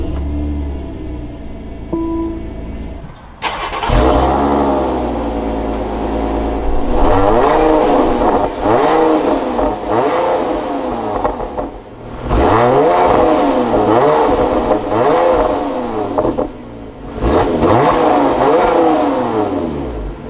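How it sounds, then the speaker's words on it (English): A 2024 Lotus Emira sports car with a manual clutch fires up with a sharp starter bark, then settles and is revved repeatedly in loud, close rising and falling sweeps with brief dips between throttle blips. "keep my foot on the clutch, we can go ahead to the center, flip this toggle up, and fire it up"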